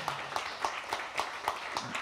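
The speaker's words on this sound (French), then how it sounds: "Allez, on peut l'applaudir tous." An audience at an innovation pitch event for a rugby challenge claps at a steady, moderate pace, each clap clear and distinct but fairly faint and distant in the room.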